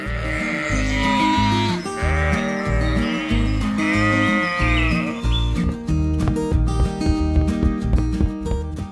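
Sheep bleat over a steady, rhythmic backing with a strong beat, the wavering animal calls rising and falling for several seconds before fading.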